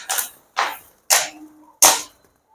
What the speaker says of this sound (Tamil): அதுவும் பென்சில் வடிதான்